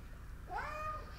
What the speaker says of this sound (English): Meow. You got more character in your voice, or is that your limited note?